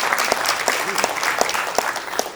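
Audience applause at a journalism awards ceremony, moderately loud with scattered distinct claps over a steady crowd wash, and a brief voice sound partway through.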